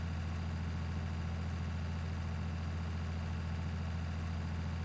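Tractor engine running steadily in Farming Simulator 19, a constant low rumbling drone with a fixed pitch and no change in revs, loud and continuous with nothing else audible.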